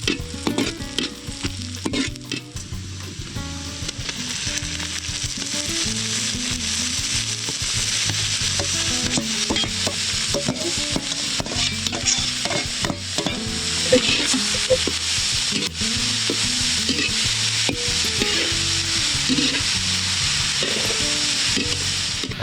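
Sinantulan is stirred and fried in a pan with a continuous close sizzle and repeated scraping, rubbing strokes of a utensil against the pan throughout, steady and fairly loud with no talking.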